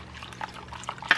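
Vanilla extract poured into a cream cheese mixture for cherry cheesecake ice cream, a soft close liquid trickle with faint clinks, short and quiet.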